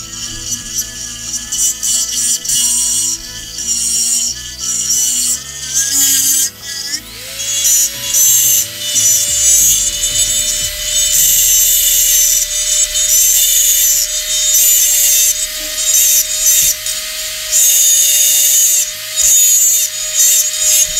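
A high-pitched rotary dentist drill whines steadily as it carves into wood, with rough scraping bursts and a constant shrill tone, loud and close, no talking.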